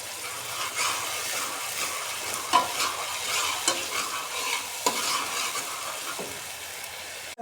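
Onions and soy chunks roast in an oiled pan under a continuous sizzle, with a spoon scraping and knocking against the metal every second or so, close up and without speech.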